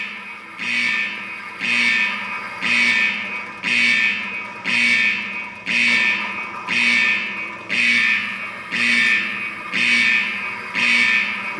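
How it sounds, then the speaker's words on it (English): Loud alarm going off in a loud, pulsing rhythm: about eleven long electronic blasts, each roughly a second, separated by short gaps, with no voices over it. "We gotta get this alarm off."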